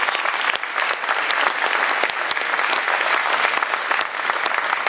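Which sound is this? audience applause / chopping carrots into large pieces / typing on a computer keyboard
audience applause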